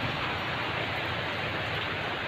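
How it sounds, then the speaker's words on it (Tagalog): Heavy rain pours at night as a dense, unbroken hiss of falling water, steady and loud throughout with no voices. "Mulag karon ata ang kusog na ulan."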